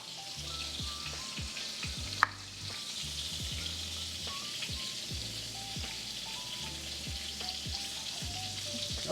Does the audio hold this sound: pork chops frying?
yes